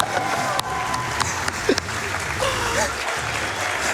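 Steady applause sound effect from the video game Donkey Kong Jungle Beat fills the scene, a continuous patter of clapping with a few sharper claps and a voice speaking over it.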